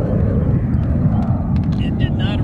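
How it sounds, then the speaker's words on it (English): A radio-controlled electric ducted fan model of an Airbus A380 flies overhead with a steady broad roar and whoosh, while a voice talks over it. "It's an Airbus A380."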